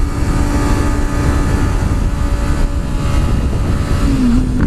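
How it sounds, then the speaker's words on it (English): A Yamaha R6 sport bike, borrowed and ridden at high speed, gives a loud, steady engine drone layered with heavy wind rush, with a brief rising pitch near the end. "I am riding TheoFreakinDore's R6"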